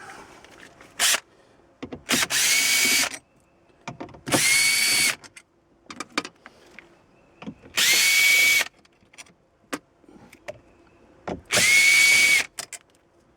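Power drill backing out four screws during a 2004 Honda Pilot seat switch repair, five loud whirring bursts of about a second each, separated by quiet gaps with light handling clicks.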